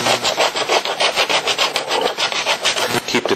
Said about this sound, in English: You'll want to work the tool steel scraper anywhere from 30 to 45 degrees